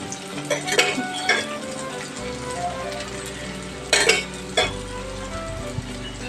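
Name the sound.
ivy gourd (kovaikai) poriyal frying in oil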